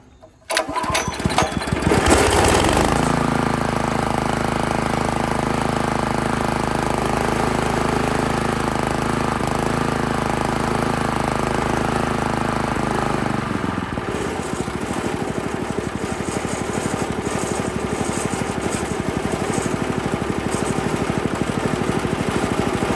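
A Honda GX160 engine on a Workman 2 multimixer, running rough, starts with a burst and settles into a loud, steady idle close by, its pitch dropping slightly partway through.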